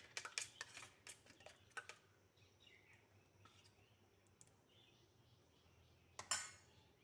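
Quick faint clicks of a utensil whisking beaten egg with a pinch of salt in a bowl, a rapid burst of taps at first, then quiet, then a brief final clatter.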